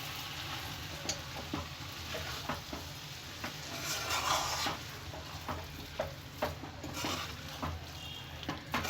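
Green gram, egg and chicken palya is stirred in a hot pan, a continuous soft sizzle with repeated utensil scrapes and light taps against the pan throughout, close by and with no talking.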